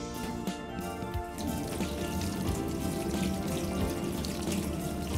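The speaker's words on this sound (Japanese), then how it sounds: "ではまず流水で手を洗います。" Tap water runs steadily for hand washing in a home food-poisoning prevention demonstration, a constant close splashing stream with no voices over it.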